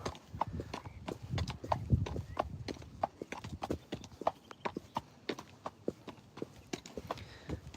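A horse's hooves walk on a hack in a steady, close clip-clop rhythm that runs throughout, with some quiet rustling underneath.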